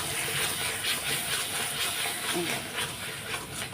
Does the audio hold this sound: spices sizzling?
yes